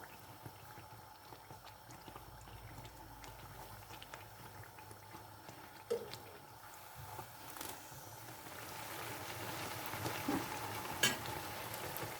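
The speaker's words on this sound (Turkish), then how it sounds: "Yağın içine girince hamur kendini toparlıyor." Pişi dough fries in hot oil, giving a faint, steady bubbling sizzle with a few soft clinks, which grows slightly louder toward the end.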